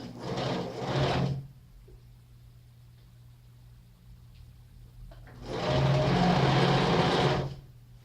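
Sewing machine stitching lace onto a child's flared dress: two close bursts of steady whirring, the first short, then a pause of near quiet, then a longer even run.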